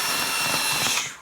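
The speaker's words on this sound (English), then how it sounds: "You put your cordless drill on" A cordless drill runs a quick greens harvester with a sharp serrated blade for cutting baby salad, giving a loud, steady high whir that tails off at the end.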